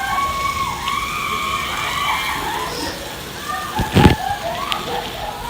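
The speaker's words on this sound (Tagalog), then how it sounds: "So, buksan natin yung shower" Water spraying steadily from an outdoor beach shower, a constant hiss and splash with a brief louder splashing burst near the end, while voices talk over it.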